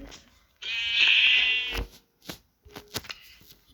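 A sheep in a video game bleats once, a clear wavering cry lasting about a second, followed by soft clicks and game noises at moderate volume.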